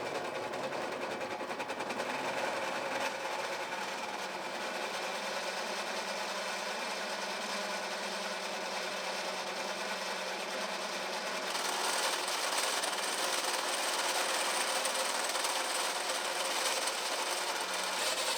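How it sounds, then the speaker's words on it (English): A hole saw and then a step drill grind continuously through steel while a trailer hitch flagpole mount is built, a loud, steady whirring drone that shifts to a brighter, harsher tone partway through. "We're going to use the old hole saw, then we're going to use the newer technology step drill."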